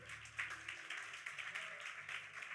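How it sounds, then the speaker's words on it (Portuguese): A church congregation claps together in a steady rhythm, a dense crackle of many hands filling the room at moderate loudness, with a low hum underneath and no voices standing out. "Palmas para o Senhor"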